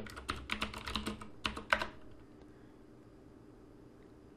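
Commands are typed on a computer keyboard at a Linux command line, a quick run of close, crisp keystrokes for about two seconds, then quiet.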